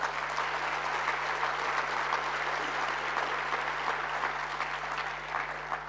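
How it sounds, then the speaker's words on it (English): An audience at the South Africa Investment Conference applauds in a dense, steady round of clapping that carries on evenly, heard from within the hall with a faint low hum underneath. "we deserve to give ourselves a big round of applause for that"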